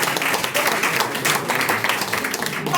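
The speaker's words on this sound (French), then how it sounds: "applaudissez pour les deux" An audience at a public talk claps and applauds, a dense, even patter of many hands heard close for a couple of seconds.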